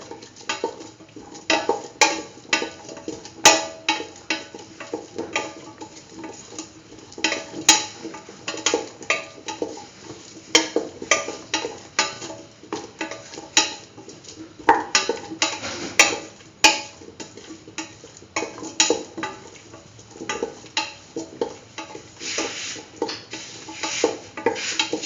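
Curried beetroot and mung bean stew is stirred in a pot, a spoon scraping and clinking against the metal in steady, uneven strokes, close and moderately loud for the whole stretch.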